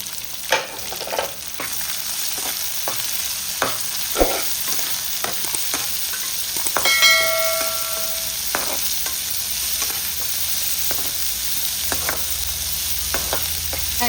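Chopped onions with curry leaves sautéing in a pan, a constant sizzle broken by repeated scrapes and taps of a spoon stirring, close and fairly loud with no talking.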